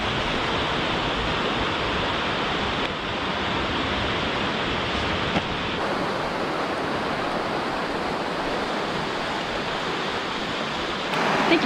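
A river flows steadily beside a hiking trail in Washington State, a continuous broadband rush of water that stays fairly loud and even throughout, with no talking.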